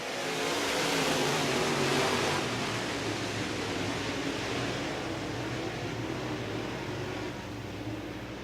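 Race cars roar together as they accelerate on a green-flag restart at a Berlin heat race, a dense, steady engine drone that fades slightly toward the end.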